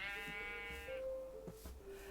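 A sheep in modded Minecraft with the Minecolonies mod gives a single quiet, wavering bleat, followed by a few faint soft thumps.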